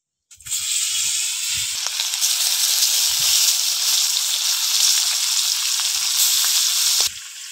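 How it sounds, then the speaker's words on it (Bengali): Pieces of river fish for bele macher kalia sizzle loudly in hot oil, a steady close crackling hiss from start to finish with a few soft clinks at the beginning. "এবার মাছগুলো আমি ভেজে নেবো।"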